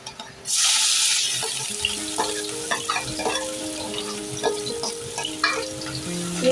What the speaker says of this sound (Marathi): तेल तापलेलं आहे आता आपण त्यात घालतोय कांदे